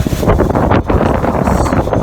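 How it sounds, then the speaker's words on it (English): Loud, constant wind blasts across the microphone at an outdoor DLR station in London, a dense roaring rush with no pause and no talking. "it's just so windy"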